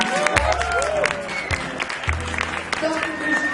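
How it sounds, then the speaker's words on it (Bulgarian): Applause from an audience at a Business Woman of the Year 2014 award ceremony in Bulgaria, a moderate burst of clapping with crowd noise and some voices mixed in, fairly close. "Моля вашите искрени и силни аплодисменти"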